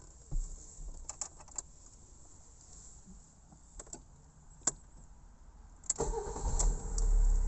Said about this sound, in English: So we'll start the car.